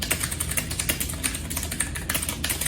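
Fast typing on a tenkeyless mechanical keyboard with clicky Otemu blue switches, a dense run of sharp, crisp clicks and clacks up close with no talking.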